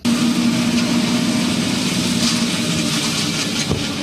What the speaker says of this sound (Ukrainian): За кермом трактора Вадим косить траву з самого ранку.